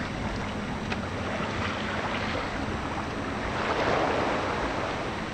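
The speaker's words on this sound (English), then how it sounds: "Wind picked back up." Wind and waves rush steadily past a sailboat under way, a constant broad wash of water and air that swells slightly toward the end, with no voices.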